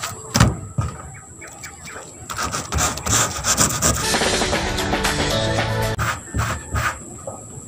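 A cloth or hand rubs briskly back and forth over a freshly sanded roof patch, giving a close, continuous scraping swish with short bursts at the start and end.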